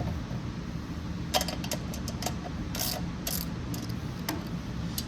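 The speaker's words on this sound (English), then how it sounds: "Tighten, and then torque those down to your manual." Ratchet wrench tightening bolts on the blower housing of a Briggs & Stratton 130G32 engine: a steady run of close, quick mechanical clicks in short bursts, with no talk.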